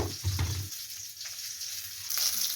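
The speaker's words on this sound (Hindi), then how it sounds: "इधर फिश फ्राई हो रहा है" Fish frying in oil in a pan in a home kitchen, a steady close sizzle with a few brief clatters at the start and a brighter hiss rising near the end.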